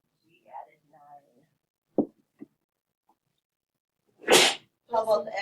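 A single sharp sneeze bursts out in a quiet classroom during a math lesson, fairly close and loud, with soft murmured talk beforehand, a couple of small knocks, and a voice speaking right after.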